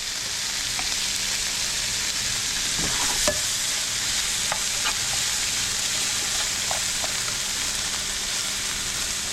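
Catfish and vegetables cooking together in a pan for tacos, a steady soft sizzle with occasional light stirring clicks and scrapes, close and continuous with no talking.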